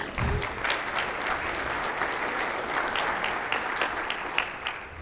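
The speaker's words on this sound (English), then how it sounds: "that's worth clapping for." Audience applause fills a gala hall, steady and sustained clapping from a seated crowd for the full stretch, with a brief low thump near the start.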